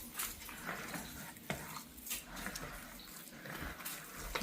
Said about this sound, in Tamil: அதை நல்லா இதோடு சேர்த்து நல்லா மிக்ஸ் பண்ணு.